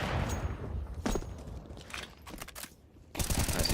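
Pistol fire in a Counter-Strike match: several sharp bursts of shots crack out in quick clusters, separated by short gaps, ending in a dense rapid volley.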